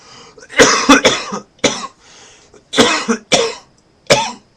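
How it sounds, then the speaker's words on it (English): Someone coughs repeatedly up close, harsh bursts in uneven clusters with short pauses between them. "I hate coughing"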